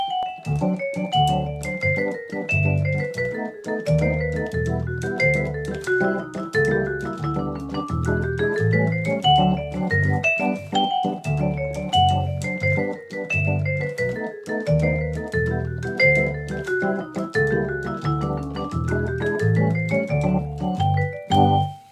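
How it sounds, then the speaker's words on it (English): Vibraphone, acoustic bass and organ sounds from a Roland FR-8X digital accordion: bright melodic runs over a walking bass and sustained organ chords, a lively instrumental groove at moderate volume with no talking. "We have a really nice vibraphone sound"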